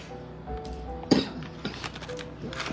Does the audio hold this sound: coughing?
yes